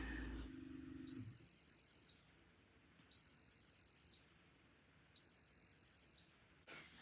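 HTVRONT phone case heat press beeping: three loud, shrill, evenly spaced electronic beeps about a second long each, separated by silence, with a brief low hum at the start.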